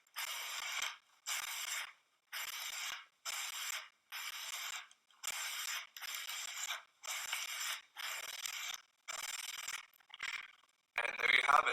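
A hockey ice skate blade being hand sharpened with a stone in steady repeated passes, about a dozen even rasping strokes with short pauses between, close and fairly quiet, with no talk.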